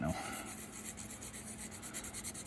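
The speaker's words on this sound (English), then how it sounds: "It's sanding." A plastic part from a Hobby Boss M1070 trailer model kit is sanded by hand, giving quiet, rhythmic rasping strokes that repeat steadily, close up and without talking.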